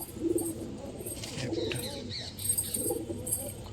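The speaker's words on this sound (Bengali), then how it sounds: "সব এগুলো নর পায়রা" Male pigeons coo in a loft, low soft rolling calls repeating a few times against a faint background of chirps and shuffling, with no clear talk.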